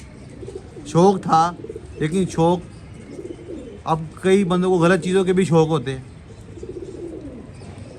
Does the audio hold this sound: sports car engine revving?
no